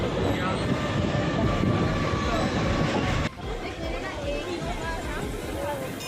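A Mumbai local train runs on a commuter line into Dadar, a steady broadband rumble and rattle that dips partway through, with people talking over it.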